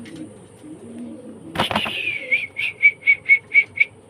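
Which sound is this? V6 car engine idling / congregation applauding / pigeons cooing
pigeons cooing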